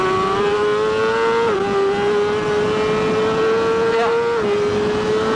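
A 2020 Polaris Ranger Crew XP 1000 NorthStar Edition side-by-side runs laps with a loud, close, steady engine drone. Its pitch dips and rises briefly as the driver shifts or changes speed, and one short spoken word is heard.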